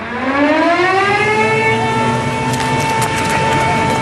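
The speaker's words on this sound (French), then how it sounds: "Il est 14 heures quand retentissent les sirènes d'alarme en Israël" Civil defense air raid sirens wail across Israel in 1973, a loud sustained tone rising in pitch and then holding steady, with faint rattling noise underneath.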